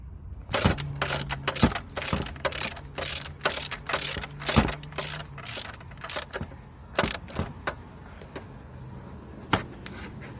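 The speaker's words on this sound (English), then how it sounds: "just gonna secure the bolt on this side first, and then I'm gonna secure these clamps here" A ratchet tightens bolts on the DPF clamp of a BMW 320d E90 with the N47 diesel engine, crisp close clicking strokes in steady bursts separated by short pauses.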